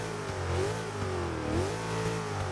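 A GMC Vandura van's stock V8 in the racing game Forza 6, revving hard and steadily at close range, its pitch climbing, dipping and climbing again as it drifts, with no talk.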